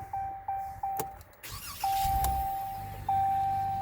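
2019 Ram Sub-Zero pickup truck switched on, a series of short electronic chimes with clicks and a brief whir of systems powering up in a quiet cabin, no talk.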